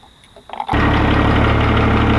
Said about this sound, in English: I'll start the tractor and show you the procedure.